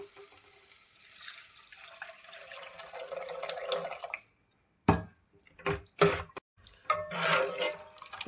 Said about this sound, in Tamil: இப்போ இது கூட நம்ம கரைச்சி வச்சுருக்க புளியை சேர்க்க போகிறோம்